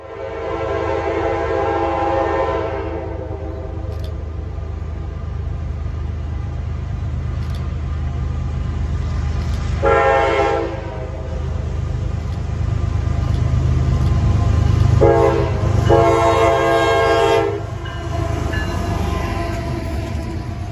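A CSX freight train led by locomotive 911 rolls through the Kanawha Valley in West Virginia, its horn sounding in several loud blasts over a steady, heavy rumble of the passing train.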